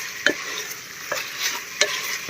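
Spices fry in a pan for Kashmiri lotus stem nadir churme, with a soft steady sizzle broken by three sharp stirring scrapes spaced across a short stretch, close and fairly quiet.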